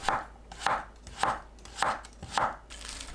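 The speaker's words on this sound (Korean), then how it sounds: "길게 반 가르고 어슷 썰어주세요" A knife chops through halved cucumber on a cutting board in steady strokes, five distinct thuds about every half second, close and clear with no talking.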